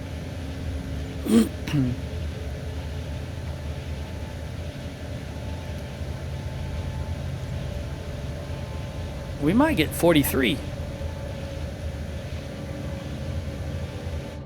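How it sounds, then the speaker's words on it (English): A low, steady mechanical drone of machinery in the video game Kenshi hums throughout, while a person speaks briefly over it twice. "That machinery noise."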